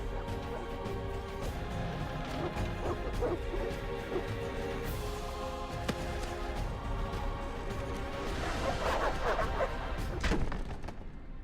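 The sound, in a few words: dogs attacking in The Witcher video game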